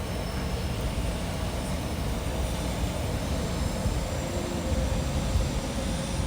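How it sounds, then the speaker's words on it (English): A London Overground train passes through Whitechapel, a steady low rumble of rail traffic heard from above, mixed with a continuous high whine. "We've got the overground coming."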